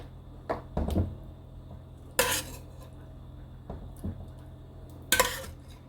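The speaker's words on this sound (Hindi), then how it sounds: "अब हम इसको डिश आउट करते हैं।" Cooked chana dal is served from a pot into a serving dish, heard as a handful of metal spoon scrapes and clanks against cookware, spaced irregularly, close but soft.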